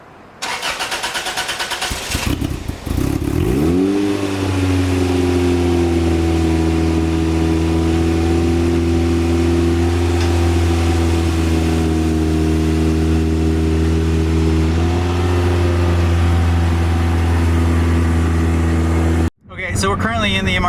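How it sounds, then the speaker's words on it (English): Toyota MR-2 Spyder turbo with a 2ZZ engine: the starter cranks briefly before the engine catches. It then settles into a loud, steady, close idle for many seconds and cuts off sharply near the end. "let's bring the MR-2 out so we can go for that drive"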